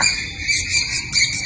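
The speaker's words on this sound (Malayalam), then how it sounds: "തത്തമ്മയാന്ന് തോന്നുന്നു, പക്ഷെ കാണുന്നില്ല." A parrot calls from somewhere unseen outdoors, a shrill chattering screech in short repeated bursts, loud and fairly close, with no talking.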